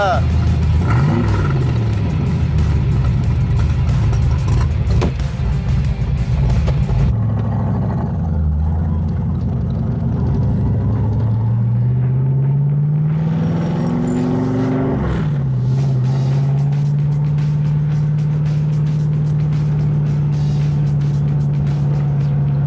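A car engine roars and revs, rising in pitch as it accelerates, loud and continuous with a steady drone underneath.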